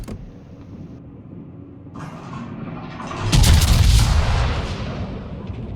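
Aft naval guns firing in World of Warships: a deep, heavy boom swells after a mechanical whir and rumbles on for a couple of seconds, loud and close, with no talk over it.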